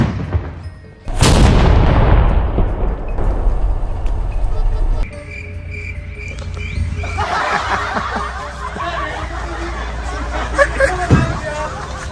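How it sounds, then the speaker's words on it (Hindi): A loud burst of firecracker bangs and crackling erupts from a prank car during Diwali, followed by sustained noisy rumble and scattered pops, with people chattering and laughing through it. "ये गाड़ी पटाखे मारती है"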